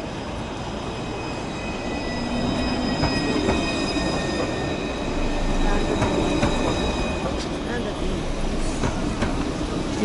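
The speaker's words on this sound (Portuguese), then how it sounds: "Comboio de superfície." A surface commuter train rolls past in Paris, a loud continuous rumble with squealing wheels and clickety-clack over about ten seconds, with people talking nearby.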